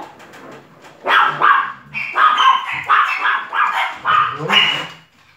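Several dogs bark in a loose run of repeated, fairly close barks lasting several seconds, with occasional yips between them and no speech.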